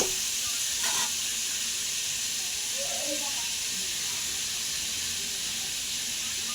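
Potatoes frying gently on low heat in a pan, a continuous soft sizzle and hiss with a few faint clinks of stirring, steady and unbroken.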